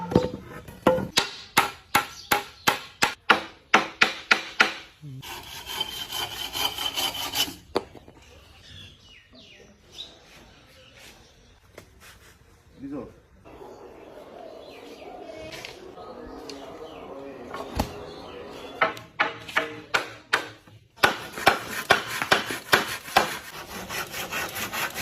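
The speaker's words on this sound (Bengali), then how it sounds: "কবুতরের টং বানানো হইতেছে, কিভাবে কবুতরের টং বানানো হয় দেখেন ভিডিওটা।" Wood is worked while building a pigeon coop: bursts of sharp, rapid knocking strikes alternate with stretches of rubbing or sawing, with faint birds in the background.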